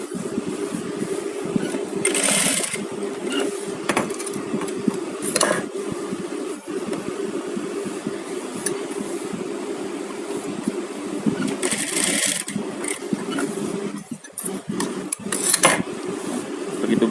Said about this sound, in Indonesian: kita jahit ini seperti ini